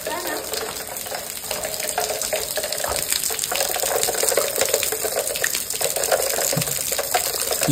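Waterfall water gushes and splashes steadily near Kondhane Caves on a Karjat trek, a loud continuous rushing spray close by that fills the whole stretch without pause.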